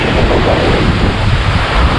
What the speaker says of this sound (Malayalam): കടൽ കയറി വന്നാണോ ഓ അതെ പതഞ്ഞ് നമ്മുടെ അടുത്ത് വരെ